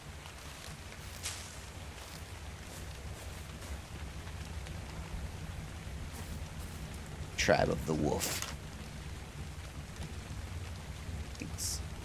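Steady rain falls in the video game ARK, a soft constant patter through the whole clip, with a brief louder rumble near the middle; a voice speaks briefly over it.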